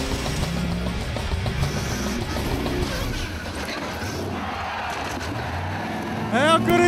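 Heavy off-road Tuff Trucks competition vehicles roar and rev continuously at close range, loud and rough, with a voice partly audible over the noise.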